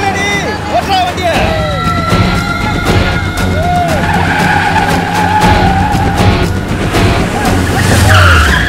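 A car pulls away with tires squealing and skidding, loud and close, under an engine roar and dramatic background music, with long sweeping screech tones repeating across the whole stretch.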